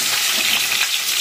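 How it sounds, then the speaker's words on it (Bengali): Boiled potatoes frying in a pan of hot oil make a dense, continuous, close-up hiss and sizzle, bright and even, with no voices. "এবার আলুটা একটুখানি ভেজে নেব"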